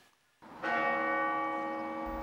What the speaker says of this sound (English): the bells of St Patrick's Cathedral in Armagh rang 88 times